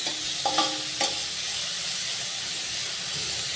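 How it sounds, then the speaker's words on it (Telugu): Chopped onions frying in a pan until browned, a steady close sizzle and hiss with a few brief knocks and scrapes of the spatula near the start, no talk. "ఈ ఉల్లిపాయలు కొంచెం బ్రౌన్ కలర్ వచ్చేంత వరకు మనం వేయించుకోవాలి"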